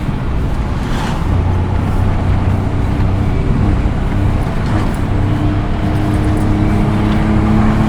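A 24-year-old Maruti 800 hatchback climbing a hill road, its small engine droning loudly and steadily from inside the car for the whole stretch, with no talk.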